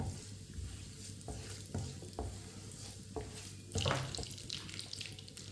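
Whole cinnamon, black cardamom and cumin seeds cook in a pan for a dal base, a quiet soft sizzle with intermittent scrapes and stirring knocks, nearby and low in level.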